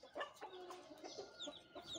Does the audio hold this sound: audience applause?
no